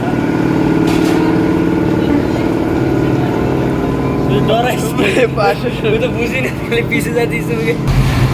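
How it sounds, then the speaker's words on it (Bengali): A river launch passes close alongside on a small launch, its heavy engine drone loud and continuous, with a voice talking over the rumble in the second half. "পাশ দিয়ে একটা লঞ্চ গেল"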